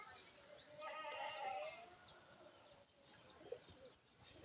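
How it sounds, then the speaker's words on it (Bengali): A caged pigeon coos softly in short low bursts, with faint chirps and rustling around it and no talking. "এই দেখো কবুতর।"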